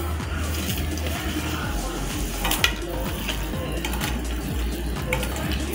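Minced meat and chopped tomatoes are mixed by hand in a bowl for Peshawari chapli kabab, giving a continuous wet squelching and stirring with occasional clinks against the bowl.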